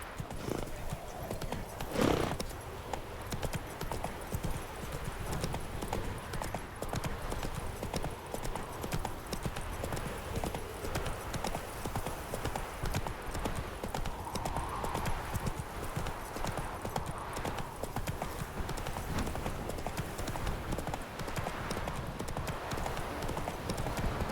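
A horse clip-clops steadily at a trot while being ridden in The Witcher 3, its hooves a continuous rhythmic patter under game ambience, with a brief whinny near the start and faint talk mixed in.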